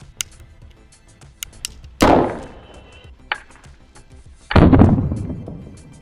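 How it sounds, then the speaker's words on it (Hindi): A homemade bamboo cannon fuelled by calcium carbide gas fires twice, each a sharp loud blast with a decaying boom, amid scattered small clicks and taps. "कितना तकड़ा धमाका क्या"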